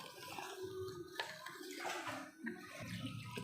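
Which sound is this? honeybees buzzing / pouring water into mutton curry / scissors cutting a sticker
pouring water into mutton curry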